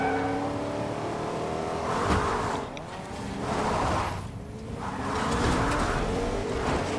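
Car engine from the video game Fortnite, a steady mid-loud drone with rising and falling revs as the vehicle drives, three swells of acceleration across the stretch, no voices.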